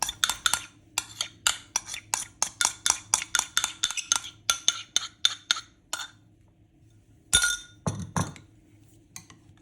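A whisk beats yogurt chocolate cream quickly against a bowl, producing a fast run of sharp, bright clinks and taps that pause, then return in a few last strokes.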